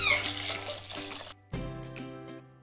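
Hot water poured over soybeans in a bowl for soaking makes a close, steady splashing stream, broken by a brief pause and then resuming with a ringing, rising fill tone.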